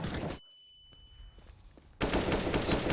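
Gunfire crackles in Counter-Strike on the Overpass map at an IEM Cologne 2023 match, with a loud burst of rapid shots, a quieter gap with faint scattered pops, then another heavy volley.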